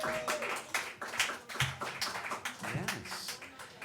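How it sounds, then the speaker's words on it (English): A small audience in a Harlem speakeasy jazz club claps, quiet and close, with uneven scattered hand claps and voices talking over them. "How about a round of applause?"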